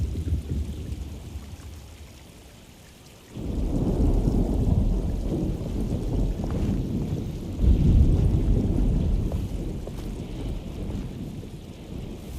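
A thunderstorm with rain in the video game Alone in the Dark: a quiet rainy hush breaks into a loud rolling rumble of thunder, then another heavy swell of thunder amid steady rain, with no voices.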